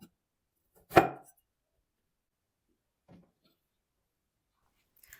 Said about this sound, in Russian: беру картошку и режу его кружочками, примерно по полсантиметра